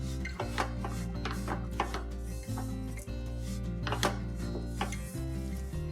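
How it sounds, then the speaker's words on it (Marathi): A spoon stirs a thick peanut and jaggery mixture in a pan for shengdana vadi, giving repeated scraping and rubbing strokes in an uneven rhythm over a steady low background hum. "तोपर्यंत हलवत राहायचं।"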